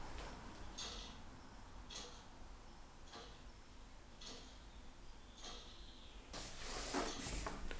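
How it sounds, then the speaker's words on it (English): A church clock at Holy Trinity Church in Bowerchalk ticks softly and evenly, roughly once a second, in a very quiet, dark church interior, with a brief rustle near the end. "what you can hear, of course, is the gentle ticking of the church clock."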